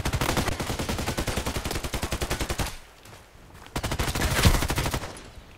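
Rapid automatic gunfire from the shooter game Contract Wars rattles in two long, evenly spaced bursts, loud and close, separated by a brief pause.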